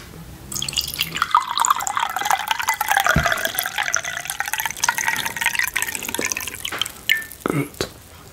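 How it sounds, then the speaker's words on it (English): Water from a small bowl poured into a glass, a continuous trickling fill with drips under soft background sound, ending in a few louder splashes near the close. "This time I will pour some water in the glass."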